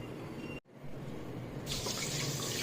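Water is poured from a glass onto rice in a new pressure cooker for cooking, a close, steady splashing rush that grows louder toward the end.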